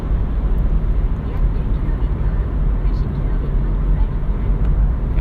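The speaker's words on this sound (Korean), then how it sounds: "다시 악셀 밟아서 가속" A car on a road picks up speed from about 70 km/h as the accelerator is pressed, with a constant loud engine and road drone under a voice speaking.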